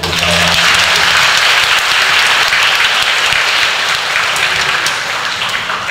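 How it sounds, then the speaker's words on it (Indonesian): Loud, sustained applause fills a church during a Mass for grandparents and the elderly, as the whole congregation claps together in a thick, continuous roar that lasts several seconds. "Kita beri tepuk tangan dulu"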